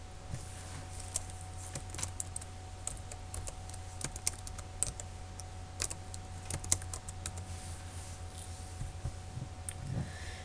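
A computer keyboard types a project name into a Visual Studio dialog. Soft, irregular key clicks come in close, quiet bursts over a low steady hum.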